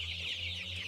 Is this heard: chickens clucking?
yes